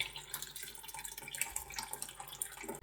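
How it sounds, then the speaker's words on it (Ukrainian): Tap water runs into a container for homemade elderberry kvass, a fluctuating, splashy gush that stays fairly close and keeps going without speech. "Так водою набираємо повну ємність"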